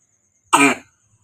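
A child's single short cough, close and fairly loud, lasting about a third of a second, then silence.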